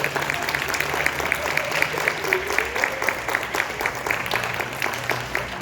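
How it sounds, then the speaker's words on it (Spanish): Applause at an academic talk on inclusive education welcomes a guest speaker, with a modest audience clapping steadily at moderate volume, individual claps audible in a loose rhythm, and a faint voice briefly underneath. "Le damos una cordial bienvenida con un aplauso a Gina Paola Moreno"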